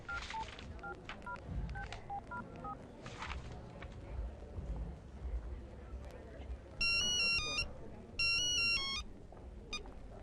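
Mobile phone call being placed: two bursts of loud electronic ringing tones follow earlier scattered beeps, all over low background rumble and faint movement.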